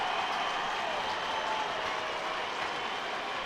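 Stadium crowd at a high school state football championship game rising to its feet, a broad, steady roar of cheering and applause that holds at an even level throughout with no clear voice standing out.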